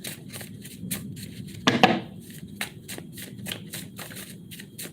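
Tarot cards are shuffled by hand in a series of crisp riffling bursts, with one louder flurry in the middle, close and clear with no talking.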